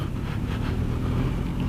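Benelli TRK 502 motorcycle engine pulling under throttle during a test ride, a low steady drone with rising rumble and wind noise, continuous and fairly close.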